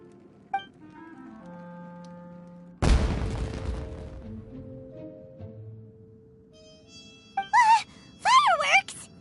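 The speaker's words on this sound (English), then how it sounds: "It sounded like fireworks." One loud boom of fireworks going off in Genshin Impact, a sudden blast that fades slowly, with quieter tones before it and a voice talking near the end.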